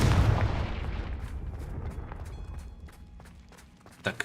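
A Confringo fire spell goes off in Hogwarts Legacy as a loud blast that fades into a rumbling tail. Footsteps follow, and then a sharp second burst lands right at the end.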